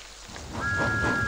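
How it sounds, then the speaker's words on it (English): Steady rain falls in a storybook railway setting, a soft continuous hiss with a faint high whistle tone joining in partway through, no talking. "But then it began to rain. It rained for days and days."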